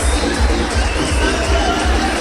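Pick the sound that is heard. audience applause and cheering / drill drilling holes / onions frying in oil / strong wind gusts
audience applause and cheering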